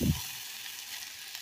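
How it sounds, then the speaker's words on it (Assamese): Sting energy drink hits a hot pan for Maggi noodles with a brief loud sizzling burst, then settles into a steady, quieter hiss that lasts to the end. "তো গাইজ প্ৰথমে মই এনেকৈ টেয়াখনৰ ষ্টিং দি ল'লোঁ, আপোনালোকে চাব পাৰে।"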